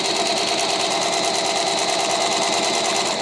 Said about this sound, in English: Right now we're at the binding machine.